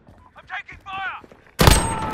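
Gunfire in the online shooter game Modern Warfare, a loud sudden burst of shots crashing in after game voice lines and continuing to the end.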